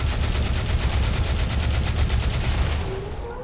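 RimWorld gunfire: rapid, rhythmic bursts of automatic fire rattle loudly and continuously, then fade slightly at the end.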